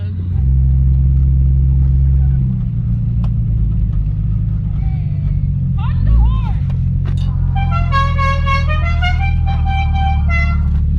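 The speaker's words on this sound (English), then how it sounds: "What'd you think of that burnout?" Car with flashers on doing a burnout on a road, a deep steady rumble that swells and shifts, followed by rising high tire squeal near the end, with people talking and exclaiming over it.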